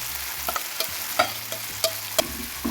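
Onion leaves and spices frying in hot oil, a steady sizzle punctuated by sharp spatula scrapes and clicks every half second or so, close and fairly loud with no voices.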